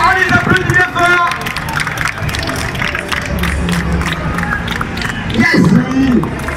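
A crowd at the Japan Expo claps and cheers for the winner of the Battle League final, a continuous wash of applause and hubbub with voices talking and calling out over it throughout.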